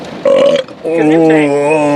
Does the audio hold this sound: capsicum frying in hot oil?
no